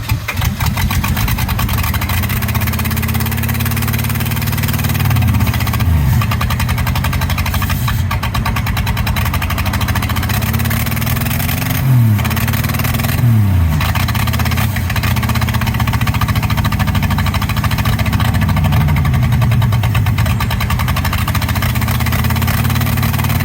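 A 1963 Plymouth Valiant slant six engine runs roughly and loudly, close by, with several revs swelling and dropping back to a ragged idle throughout.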